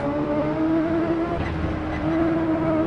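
Porsche 908 race car in Assetto Corsa, its engine droning at a steady high pitch with slight rises and dips, loud and continuous for about three seconds with no talk.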